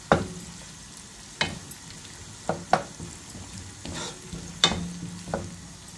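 A quiet, low sizzle of onions and tomato paste frying in a pan, broken by occasional scraping knocks as a utensil stirs it.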